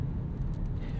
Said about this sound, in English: you can hear the exhaust has gotten a little bit louder